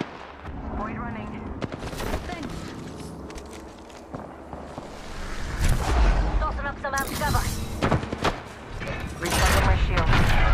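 Gunfire in a battle royale shooter game while the player is under attack: repeated bursts of shots, some close and loud, others more distant, with footsteps and a booming impact, all busy and continuous.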